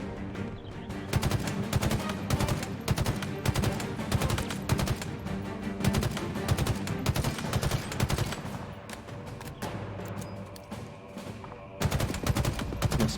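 Rapid bursts of automatic gunfire from Halo Infinite, dense and continuous with sharp repeated shots over a steady combat backdrop, loud and close throughout.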